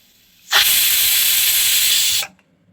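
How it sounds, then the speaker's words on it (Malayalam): A loud, steady high-pitched hiss of steam bursts out abruptly from a pressure cooker cooking moong dal, holding nearly two seconds before cutting off sharply. "ഫസ്റ്റ് വിസിൽ വന്നിട്ടുണ്ട്"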